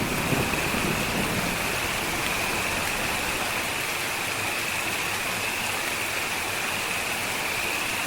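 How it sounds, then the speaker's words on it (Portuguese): Heavy rain pours onto dry, cracked prairie ground, a steady dense hiss with no breaks, loud and close throughout. "Gotas pesadas de chuva caem sobre a terra ressecada"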